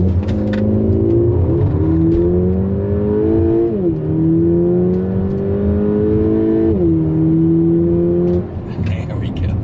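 A tuned Volkswagen Mk6 GTI with a turbocharged engine of just over 210 horsepower accelerates hard in a 0 to 60 run, its engine droning steadily and climbing in pitch with distinct drops at each gear shift, heard from inside the car.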